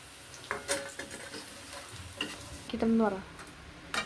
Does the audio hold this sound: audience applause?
no